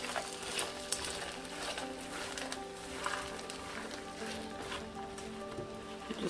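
Basmati fried rice being stirred and mixed in a hot pan, a faint, steady scraping and sizzling with soft clinks from the utensil against the pan.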